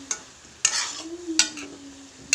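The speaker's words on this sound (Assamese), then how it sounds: "এয়া এবাৰ ঢাকন খুলি লৰাই দিছোঁ" A pachla vegetable dish stirred in a pan just after the lid comes off: several sharp scraping spatula strokes spaced unevenly, with a soft sizzle and low hum between them, close and alone.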